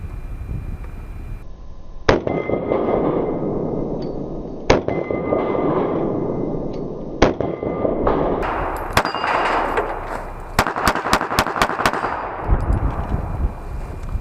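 A Glock pistol with a ported slide and barrel and a compensator fires outdoors: a few spaced sharp shots, then a rapid string of close, loud cracks with metallic ringing.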